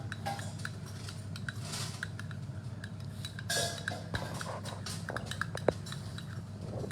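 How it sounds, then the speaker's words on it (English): A spoon gently stirring coffee, faint light clinks and scrapes against a cup repeated over a low background hum, quiet and close, with no talking. "Give a gentle stir again."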